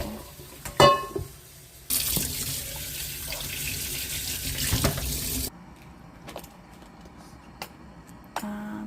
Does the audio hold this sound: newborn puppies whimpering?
no